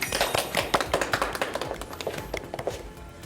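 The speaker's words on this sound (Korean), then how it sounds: "박수로 모시겠습니다" Audience clapping to welcome a lecturer at a retirement-planning talk, a small group of distinct close hand claps that start dense and loud, then thin out and fade toward the end.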